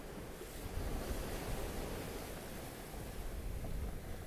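Ocean waves and wind roar steadily around a sailboat at sea on a solo passage from northwest Spain to Ireland. A dense, continuous wash of surf and gusting wind buffets the microphone, with no voices.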